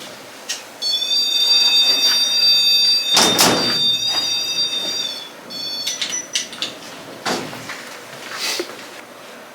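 A heavy metal cell door in an old jailhouse slams shut with a loud clang and ringing metallic scrape, followed by another clank later, amid high whining tones and a rumbling, reverberant room.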